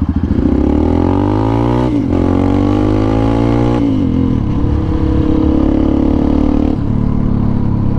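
A Yamaha Lander 250 motorcycle engine hums steadily and close while riding, rising and falling through gear shifts with rhythmic pitch sweeps, loud and continuous with no talking.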